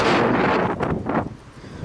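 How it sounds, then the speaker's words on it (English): Strong wind blasts the microphone in heavy, booming gusts that surge and then ease off toward the end. "where I'm at, it is extremely windy today."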